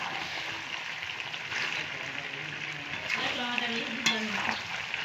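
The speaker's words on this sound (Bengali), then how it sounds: "এ ভালোভাবে কষিয়ে নিতে হবে এই দেখো মাংস কিন্তু একদম কষানো রেডি হয়ে গেছে" Goose meat stir-fried (kosha) in a pan, with a steady sizzle and scraping stirring strokes that grow busier toward the end, with faint voices in the background.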